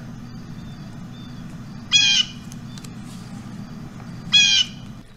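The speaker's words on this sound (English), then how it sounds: "The jays screamed, "Ark, ark!"" Jays give two harsh, raspy screams a couple of seconds apart, used as storybook sound effects, each brief and prominent over a low, steady background hum.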